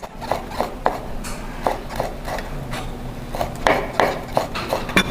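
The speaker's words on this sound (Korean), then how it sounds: "얘는 곱게 채를 썰어주세요" A knife finely julienning a halved, seeded chili pepper on a cutting board, making quick, crisp, evenly spaced taps in short runs, close and clear with no talking.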